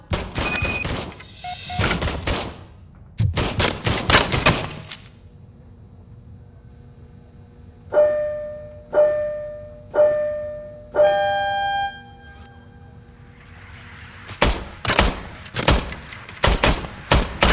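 Service weapon gunfire in RoboCop Rogue City: loud, close bursts of rapid shots open and close the passage, with a series of single ringing metallic reports spaced about a second apart in between.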